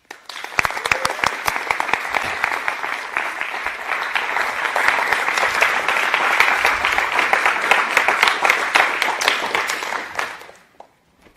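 An audience at a university inaugural lecture applauds to welcome Professor Charlie Pedlar, with dense, sustained clapping from many hands that stays loud for about ten seconds before fading out.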